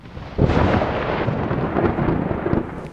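A thunderstorm with a loud, deep rumble of thunder that rolls on for several seconds over steady rain. No voices are heard.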